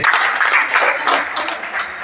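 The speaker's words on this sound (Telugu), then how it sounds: "ఒకసారి అందరు చప్పట్లు ఉంటే చేసి ఆమోదిస్తే" Attendees at a savings group's annual meeting give a brief burst of applause of steady, full clapping, approving the accounts.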